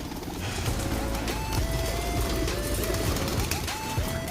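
Racing pigeons cooing and calling as they are released, amid a steady outdoor rumble, with faint flutters and short whistle-like bird notes scattered throughout.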